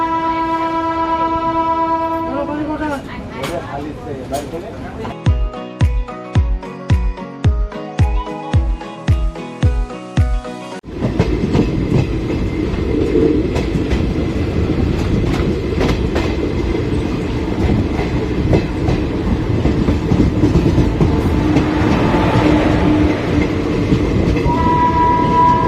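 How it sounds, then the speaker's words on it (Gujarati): The Botad-Bhavnagar passenger train 59229 pulls out of Dhola junction: sustained horn tones first, then a regular series of loud wheel clacks over rail joints, giving way to a dense, continuous rolling rumble with a faint whistle-like tone later. "ટ્રેન ક્રોસિંગ વાઇટે ઊભી હતી, એને ડિપાચર મળી ગયો"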